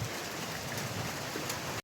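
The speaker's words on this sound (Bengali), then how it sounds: "কার কার এলাকার বৃষ্টি হচ্ছে একটু সবাই কমেন্ট করে জানাবেন" Steady rain pours down as a dense, even hiss, with no voices, lasting a couple of seconds before cutting off.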